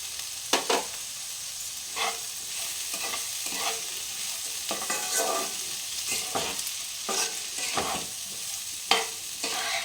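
Sabudana khichuri fries in a pan with ground cumin and Kashmiri chili powder. A steady sizzle runs beneath repeated scraping stirs of a spoon, heard close with no voices.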